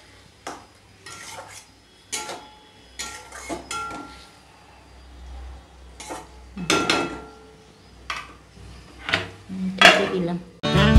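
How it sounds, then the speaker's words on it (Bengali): Spice masala for pabda fish curry stirred and fried in a pan, with intermittent metallic scrapes and clanks of a spoon against the pan over a faint sizzle, close by, with brief talking in between. "এবার এটাকে ভালো করে কষাবো।"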